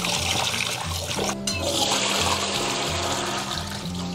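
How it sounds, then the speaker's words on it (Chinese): Peeled shrimp are rinsed under a running kitchen tap while preparing a Northeastern Chinese fried shrimp dish, with a steady close stream of water and splashing that continues throughout without speech. "然后我们再把虾仁给它清洗干净"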